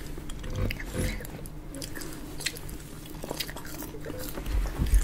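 Crunchy biting and chewing of garlic eaten alongside pork belly chips, close and steady with irregular crisp crunches throughout, no talk over it.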